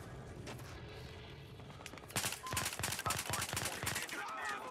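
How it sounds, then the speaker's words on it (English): Gunfire in the Battlefield Hardline multiplayer video game, a fairly quiet start that breaks into loud rapid automatic bursts of close shots over the last half. "Where am I getting shot from?"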